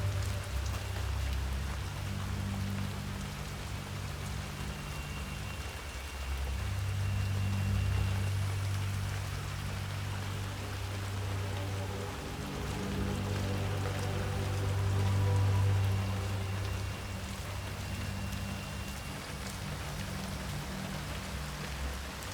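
Steady rain falls in the Hitman 3 video game, a constant wash of patter over a low rumbling hum that swells and eases slightly, with no talking.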